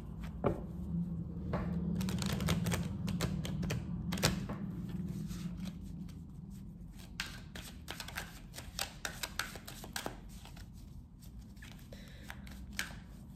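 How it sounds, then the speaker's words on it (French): Tarot cards being shuffled by hand, a steady stream of soft riffling, flicking and papery slaps close up, with occasional sharper card snaps and no talking. "On va battre les cartes pour vous, les vierges."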